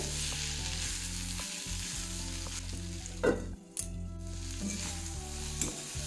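Steady, close sizzling of bitter gourd frying in a pan over medium heat, continuous throughout, with a tonal hum running beneath and a couple of brief scraping stirs.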